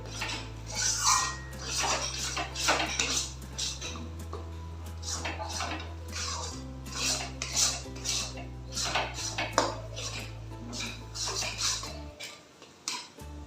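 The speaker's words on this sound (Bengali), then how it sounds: "এটাকে ভালো করে ভাজতে থাকবো ঠিক শুকনো হয়ে যতক্ষণ একটা মন্ড না হচ্ছে ততক্ষণ পর্যন্ত এটাকে আমি নাড়তে থাকবো" A spatula stirs and scrapes pea paste in a wok as it cooks down dry for kachori filling, producing repeated close metallic clinks and scrapes over a low, steady background hum.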